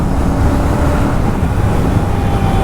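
Steady, loud engine and wind rumble from a Royal Enfield Classic 650 motorcycle being ridden on the road, a continuous low drone with no talking.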